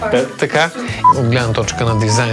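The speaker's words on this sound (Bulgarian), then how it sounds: "Да, това е телефона ми, не се представя." Mobile phone tones beep briefly in a home interior setting, one short clear tone heard under ongoing close speech from a person talking.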